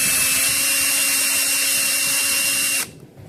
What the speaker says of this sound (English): Now we got both holes drilled.